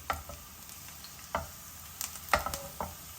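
Finely chopped garlic sizzles in a pan for egg fried rice, a soft steady crackle broken by a few sharp scrapes and stirs of the utensil, with no talking.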